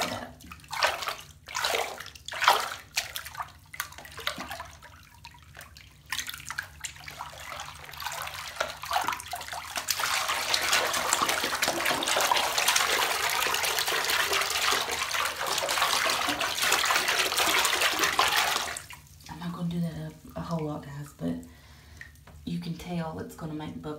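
Bath water rushes into a tub with bubble bath added, a loud steady gushing that lasts about nine seconds. Before it come some handling and splashing sounds, and afterward quieter sloshing follows.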